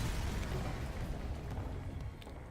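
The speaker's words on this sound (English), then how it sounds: "With the pirate ship destroyed" Pirate ship blowing apart in the space game FTL: Faster Than Light, a dense, continuous low rumbling explosion roar sustained for a few seconds with no voices.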